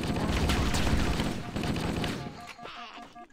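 Rapid gunfire from weapons in the video game Halo: Combat Evolved, a dense burst of loud shots that thins out and fades near the end.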